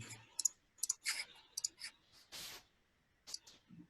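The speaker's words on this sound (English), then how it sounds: "And then for publishing the page, you click on the publish button." A computer mouse is clicked repeatedly while a WordPress page is edited and published, giving a quick, irregular run of sharp, close clicks with short pauses between them.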